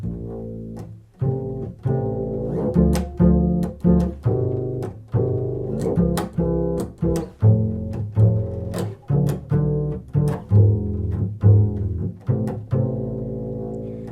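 A bass guitar plays a tune slowly in plucked tenths, each note ringing out and decaying, alone with no voices.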